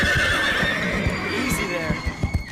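Horses whinny shrilly in a stable yard ahead of saddling, long high neighs layered over shuffling hooves, fairly close and loud, with some talking mixed in.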